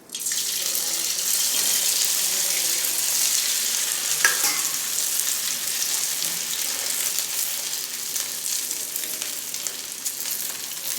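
Idli pieces for soya chilli idli sizzle steadily in hot oil, a close, continuous bubbling fry that holds level throughout with faint clinks now and then.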